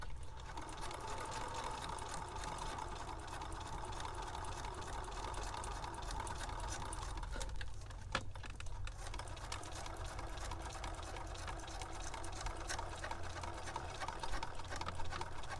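A sewing machine stitches a fabric beach journal in a continuous close whirring run, with a short pause partway through before the stitching resumes.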